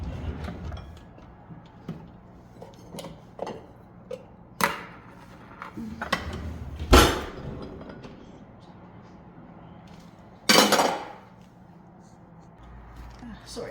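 Rummaging through a kitchen for another mixing bowl: scattered clunks, knocks and sliding thumps of dishes and cupboards, with a few sharp louder bangs over a quiet room tone and occasional speech.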